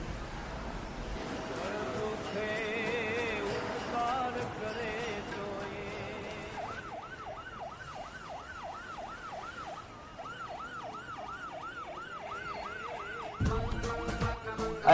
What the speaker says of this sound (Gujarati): એમ્બ્યુલન્સ કોની છે?